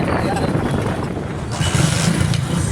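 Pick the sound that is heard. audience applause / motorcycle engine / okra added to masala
motorcycle engine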